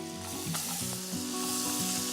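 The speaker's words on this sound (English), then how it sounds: "Butter's sizzling away to glory." Butter sizzles steadily in a skillet, a constant crackling hiss with occasional pops, close up and with no talking.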